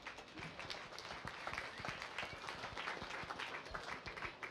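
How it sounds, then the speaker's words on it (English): An audience at a county fair swine show claps in a lively round of applause, individual hand claps audible in a brisk, uneven patter at moderate distance. "give yourselves a round of applause"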